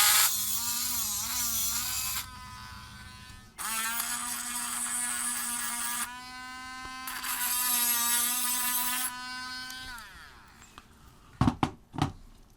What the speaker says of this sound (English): So I've got my little Dremel, and we're going to